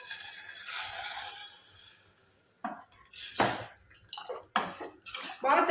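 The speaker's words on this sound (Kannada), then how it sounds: "ಇದಕ್ಕೆ ಎಷ್ಟು ಬೇಕಲ್ಲ ಅಷ್ಟು ನೀರು ಹಾಕಬೇಕು" Water pours into a ground coconut and tomato curry with a rushing splash for about two seconds, followed by close clinks and scrapes of a vessel and utensil against the pot.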